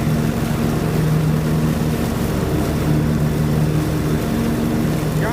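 A John Deere tractor brush hogging runs as a loud, steady engine drone with a constant low rumble throughout and no talking.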